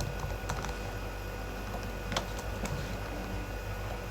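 Fingers type on a computer keyboard while HTML code is edited, a quick run of light close clicks over a steady low background hum, with no talking.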